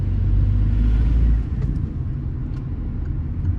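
A Peugeot 208 Active three-door with the 1.2 VTi 82 hp petrol engine is heard from inside the cabin. A loud, deep engine rumble eases after about a second and a half into a steadier, lighter drone, with no speech.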